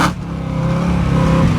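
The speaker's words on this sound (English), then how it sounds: "Trent's just going to show us the valved exhaust on this. Go, do it closed first." A car with a valved exhaust held closed revs up close by, a smooth, subdued engine note rising steadily in pitch over a short burst.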